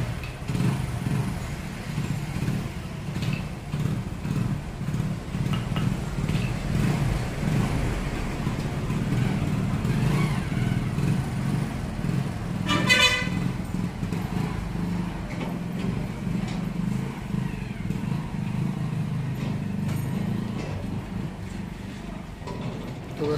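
A motorcycle hauls a bike-operated food cart on a test ride, its engine a steady low drone throughout, mixed with wind rush and no voices.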